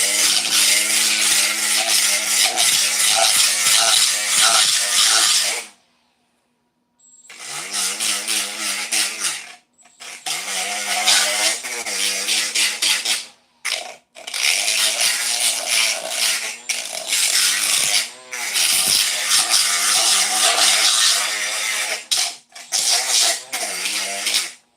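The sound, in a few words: sanding bondo on custom mirrors with 36 grit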